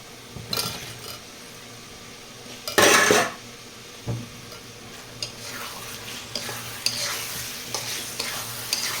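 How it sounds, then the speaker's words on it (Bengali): Potatoes are tipped into a pan of cooked spice masala for aloo dum and stirred, bringing a burst of sizzling, then metal spoon scrapes and clinks against the pan over a low, steady fry. "মশলাটা হয়ে গেছে, এখন আমি এর মধ্যে আলুগুলো দিয়ে দিব।"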